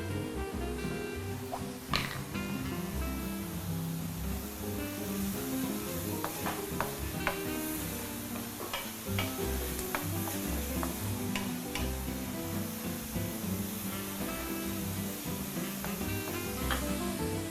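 Onions and garlic sauté in oil in a pan for stuffed milkfish, giving a steady close sizzle broken by frequent sharp ticks and clinks of stirring, with no talk.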